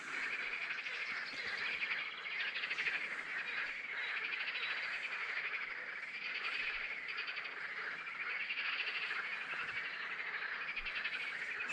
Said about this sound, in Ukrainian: Підспів жаб, птахів, соловів.